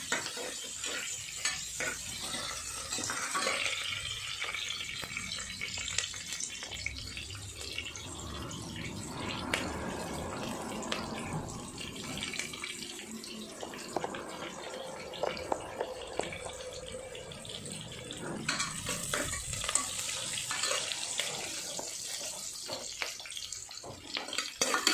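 Onions fry in a pan toward golden, a soft steady sizzle with occasional stirring scrapes, close and fairly quiet, with no talking.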